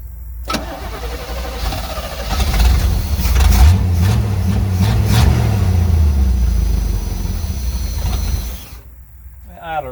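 A 1972 Chevrolet C30 truck, abandoned on a farm for 15 years, cranks and fires up, its engine running roughly and loudly for several seconds before cutting out, with a brief voice at the end.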